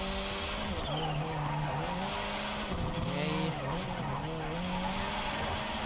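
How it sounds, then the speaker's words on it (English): A car drifting in the video game Project Cars 3, its tires squealing continuously over a steady engine drone, with the pitch of the skid wavering as the slide goes on. "oh, nice drift"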